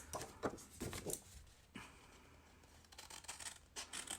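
Scissors cutting out paper silhouette shapes, with short, quiet snipping and rustling strokes in irregular bursts and small pauses, close and soft, no voices.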